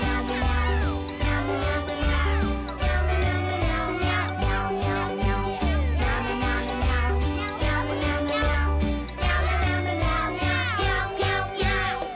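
A voice imitates a cat, meowing over and over in a sing-song way above loud rhythmic music.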